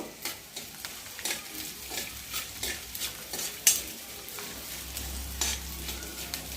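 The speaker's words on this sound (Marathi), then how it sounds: "तूप टाकले आता दोन चमचे मी डिंक तळून घेऊया" Edible gum (dink) fries in ghee in a pan, a steady soft sizzle broken by repeated stirring scrapes and a few sharper clinks, close and moderately quiet.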